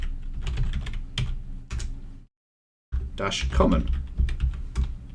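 Rapid, close typing on a computer keyboard while entering a terminal command, a dense run of clicks broken by a short silence, with a voice speaking briefly.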